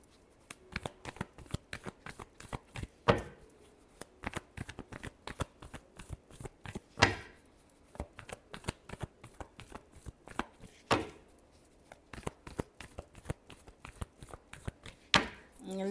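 Tarot cards being shuffled, a rapid run of crisp riffling flicks and slaps, close and fairly quiet, with a few louder bursts recurring every few seconds.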